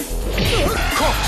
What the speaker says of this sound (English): Corkscrew blow.